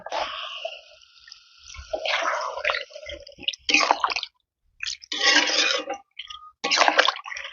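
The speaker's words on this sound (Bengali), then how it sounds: "এবার দিয়ে দেবো পরিমাণ মতো জল।" Water poured into a simmering chicken curry in a pot, splashing and gurgling close by in several separate bursts with short pauses between them.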